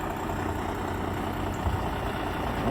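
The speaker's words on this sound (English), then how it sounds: "Diesel engine is still idling." A Pierce pumper fire engine's diesel idles in a steady, continuous low rumble with a constant mechanical drone, close and even throughout, with no voices.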